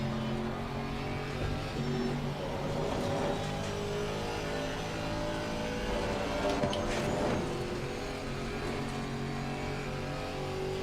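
GT3 and GT4 racing car engines in a racing video game drone and whine continuously at a distance during practice at Kyalami, several cars passing with rising and falling pitch, no talk.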